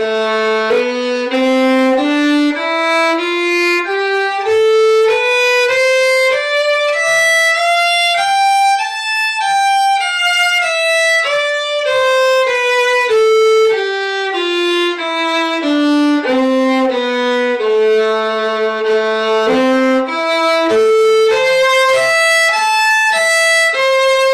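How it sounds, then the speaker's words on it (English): A clear melodic instrument plays the A natural minor scale ascending and descending step by step, repeated several times at a steady pace. "the minor scale, the natural minor scale."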